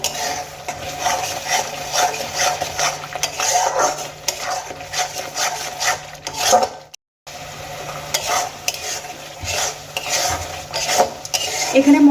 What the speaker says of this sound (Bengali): এবার সমস্ত মশলা আমি একসঙ্গে কষিয়ে নেব।